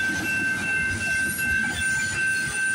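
A CP freight train of grain hoppers and steel coil cars rolls past close by, a continuous loud rumble with wheel noise and a thin high squeal.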